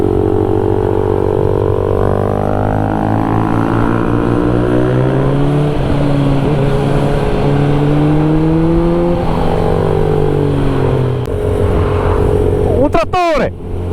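A tractor engine drones steadily with a low, layered rumble and shifting pitch, close by throughout, under people talking in Italian, ending with a few sharp knocks.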